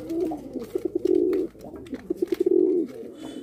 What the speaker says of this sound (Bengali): শ্যাডেল ব্যাক ফ্যান্টেল কবুতর